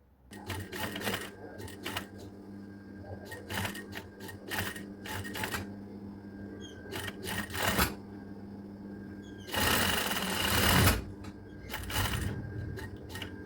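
A sewing machine stitches a women's shirt with binding along the edges, running in short bursts with pauses between them, close and clear with no talking.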